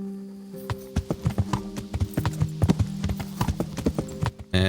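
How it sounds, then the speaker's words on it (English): Horse hooves clip-clop at a steady gait in the medieval video game Kingdom Come: Deliverance, crisp and close over a low ambient hum, with no talking. "let's get on our horse and get out of here."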